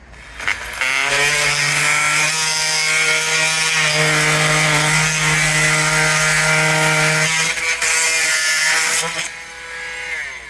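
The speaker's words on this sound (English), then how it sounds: "No, there's nails down there. You can hear them, and you can see that on the blade." A power saw whines loudly through wood during a sash window repair, its steady harmonic drone broken by harsh scraping as the blade strikes nails.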